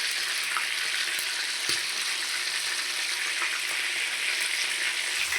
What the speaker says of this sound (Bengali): এই যে মাঝের মধ্যে এরকম করে উল্টে পাল্টে ভেজে নেব